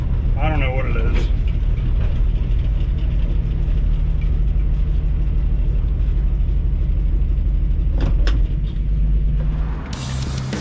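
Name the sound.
1965 Ford Mustang driving bumpy with front tire problem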